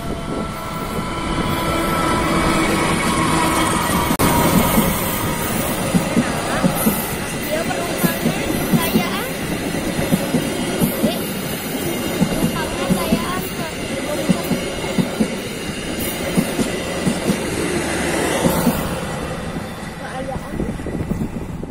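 The Siliwangi passenger train rolls past the level crossing at KM 110 near Ciranjang, a loud continuous rumble of wheels with rhythmic clacking over rail joints, close and sustained for the whole pass.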